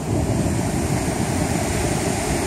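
Ocean waves on the beach at Barra de Santiago, near the Guatemalan border: a steady, loud, broadband roar of surf mixed with wind rushing against the microphone, continuous throughout with no voices.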